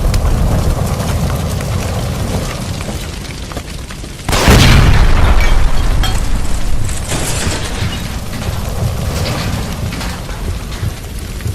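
Gas line explosion by a stove in the LA Noire crime game, one sudden loud boom at mid-clip over steady noisy rumble, followed by a lingering roar that slowly settles.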